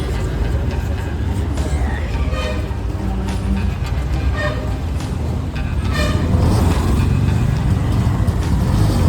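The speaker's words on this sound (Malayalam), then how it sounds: "നമ്മൾ ഓട്ടോയിലോട്ട് വീണ്ടും കയറുവാണ്." An auto rickshaw rides through city traffic in Chennai, with a constant engine and road roar close by and several horn toots along the way, plus faint voices in the background.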